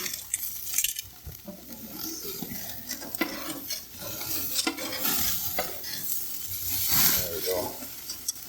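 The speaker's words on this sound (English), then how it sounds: "We're doing steaks on the barbecue, and it's actually kind of chilly for grilling on the barbecue" Steaks sizzling on an outdoor barbecue grill on a chilly day, a continuous close crackle and hiss broken by scraping and clinks of tongs and utensils, with a brief spoken remark.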